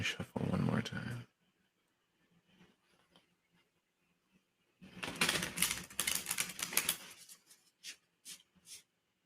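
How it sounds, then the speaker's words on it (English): Tarot cards shuffled by hand, a burst of rapid papery riffling and slapping near the start, then a longer crisp shuffling run with a few sharp taps after a quiet pause. "Let me shuffle one more time."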